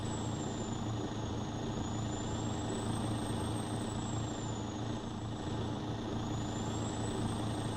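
A Mack truck engine runs at a steady drone in American Truck Simulator, in a constant low rumble with a faint high whine drifting above it. There is no talk.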